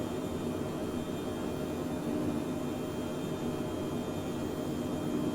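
Steady, even roar of a Phenom 100 business jet's engines during takeoff in Microsoft Flight Simulator 2020, a constant broadband whoosh with a faint hum and no talking.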